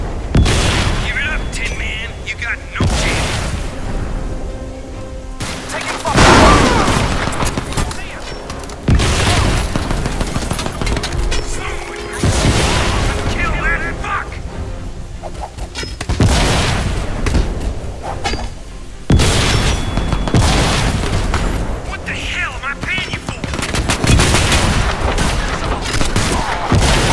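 Rockets, explosions and gunfire in the video game Crysis 2, with heavy booming blasts and rapid automatic fire sounding loud and dense throughout, under intermittent talk.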